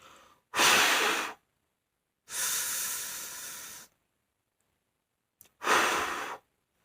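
Three long, loud breaths in a whoosh breathing technique: a deep inhale, a held pause, then forced exhales, each a broad airy rush separated by near silence.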